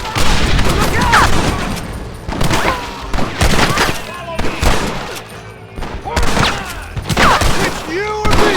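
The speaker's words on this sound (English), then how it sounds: "Stop shooting at me!" Dense gunfire crackles through a chaotic Red Dead Redemption shootout, with rapid overlapping shots, booms and thuds in close succession while voices shout over the fighting.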